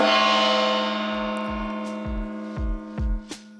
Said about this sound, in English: Should I ring the last gong of 2024?